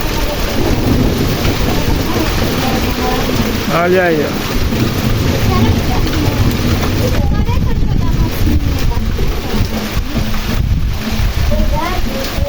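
Heavy rain driven by strong wind sweeps over open sandy ground in the Pernambuco sertão, a loud steady roar with wind buffeting the microphone throughout, while someone talks over it.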